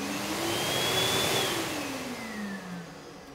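An Armadillo ECO hand dryer roars loudly and steadily at full power, with a faint whine drifting in pitch over the rush of air.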